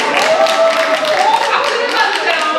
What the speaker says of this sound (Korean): 이 정도만 얘기해도 박수를 받는 거 봐요.